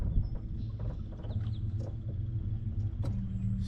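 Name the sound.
passing vehicle engine rumble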